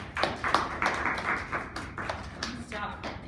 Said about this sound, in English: Everybody give her a round of applause.